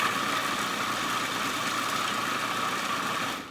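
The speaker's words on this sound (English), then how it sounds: "I'm going to blend this" A steady, loud motorized whir of a blender finely chopping vegetables runs continuously, then cuts off sharply at the end.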